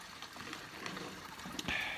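Water runs and splashes into a cattle stock tank, a faint continuous trickle and gurgle with a few brief clinks, quiet and alone.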